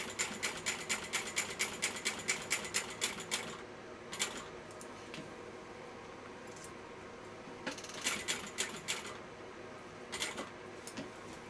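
A sewing machine runs a box stitch on a backpack strap in quick rapid bursts of needle rattling, pausing between runs with faint handling, close and fairly quiet.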